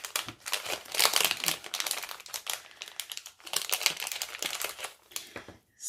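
A plastic package being opened, with dense, continuous crinkling and crackling at close range that comes in irregular bursts, then falls silent near the end.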